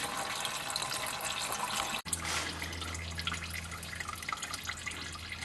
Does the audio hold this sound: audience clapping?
no